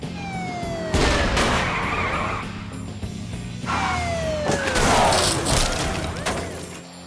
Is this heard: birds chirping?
no